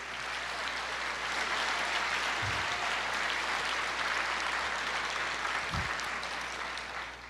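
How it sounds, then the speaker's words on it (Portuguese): Sustained applause from a church congregation during a sermon, a dense, steady wash of clapping that fills the space for several seconds and fades slightly at the end. "Você pode aplaudir o Senhor"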